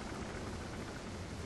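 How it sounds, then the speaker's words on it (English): Rain falling in The Legend of Zelda: Skyward Sword before the Abyssal Leviathan Tentalus boss, a dense, even hiss of rainfall with a low rumbling undertone, steady and unbroken, with no voices. "Ooh, it's raining."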